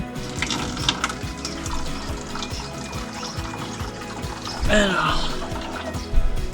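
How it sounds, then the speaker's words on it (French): Water runs and trickles from a leaking fitting on a DIY campervan water system, a continuous wet splashing heard close up beneath someone talking. "Alors ça marche bien, mais ça fuit. J'ai de l'eau qui coule là."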